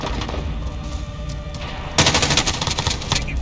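Gunfire in Call of Duty Modern Warfare Spec Ops survival mode, steady bursts of rapid automatic fire that grow sharply louder after a moment, dense and close.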